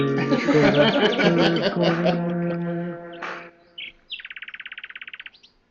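A red-headed woodpecker's call comes after a stretch of talk: a short chirp, then a rapid series of about a dozen loud, evenly spaced clear notes near the end.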